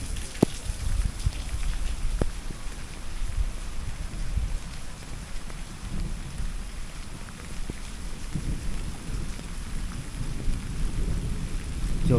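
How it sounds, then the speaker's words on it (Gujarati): An unseasonal thunderstorm in the Gir region brings steady rain hissing down, with deep thunder rumbling and swelling underneath. A couple of sharp drips stand out near the start, and no one speaks. "તો જોઉં તમે અત્યારે વરસાદ પડે છે"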